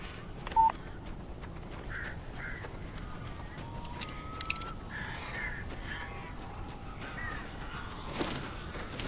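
Crows cawing in the Alan Wake video game, a few short harsh calls that sound faint and distant over a quiet background, with soft scattered clicks.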